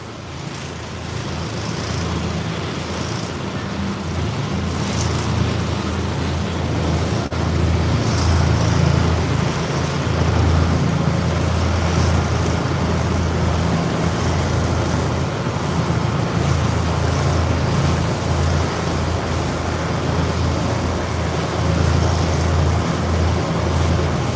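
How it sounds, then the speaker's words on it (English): Large lake waves slosh and wash around a sightseeing boat in Chicago's harbor off Navy Pier, a continuous rushing roar with a low boat rumble and steady wind buffeting the microphone, and no talking. "Look how big the waves are."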